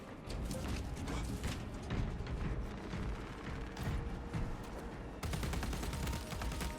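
Rapid gunfire in Warhammer 40,000: Darktide, fired into a horde of enemies: quick mechanical bursts and clattering shots in a steady stream under a busy game soundscape, with no talk.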